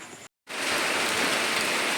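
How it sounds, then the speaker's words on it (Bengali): Heavy rain pours down in a dense, steady roar after a brief moment of silence, loud and close with no voices. "এখন দেখুন কত জোরে বৃষ্টিটা চলে এসছে ভীষণ জোরে জোরে বৃষ্টির ফটাগুলো পড়ছে"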